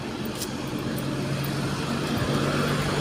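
A large vehicle's engine on a road in Lupi, Camarines Sur, gives a steady, loud low rumble mixed with roadway noise and a few faint higher ticks, with no voices.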